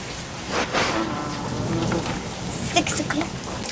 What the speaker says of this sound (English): The raindrops continue to fall, not even being halted by our well-constructed ceiling.